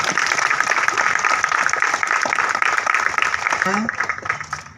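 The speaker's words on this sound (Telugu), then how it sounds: "ఒక్కసారి చప్పట్లు కొట్టండి చూస్తాను" An audience claps at a public awareness event on using technology well, attended by a district judge and a police officer; dense, continuous applause fills the room before tapering off at the end.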